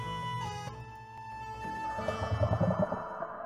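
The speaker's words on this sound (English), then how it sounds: "There's a whale. The gray whale." A gray whale call from a video game, a soft, low moaning tone with sustained harmonic wails and a rising burst of grumbling pulses near the end, fairly faint.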